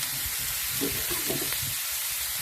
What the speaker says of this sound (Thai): ผัดไปเรื่อยๆค่ะ